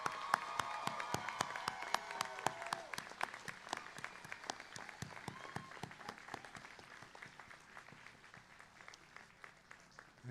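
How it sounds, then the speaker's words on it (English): A university commencement audience applauds the faculty in a steady round of clapping, moderately distant and sustained throughout, with faint voices briefly audible early on. "Okay, graduates, let's give them a round of applause for all they've done."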